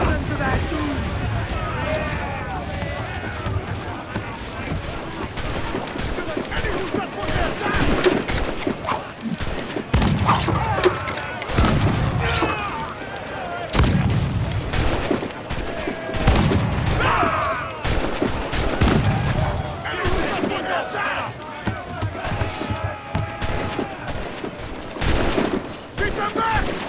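Cannon fire and gunfire roar through a naval battle in Assassin's Creed IV Black Flag, with repeated heavy booms and crackling volleys over a dense, loud din while voices shout orders throughout.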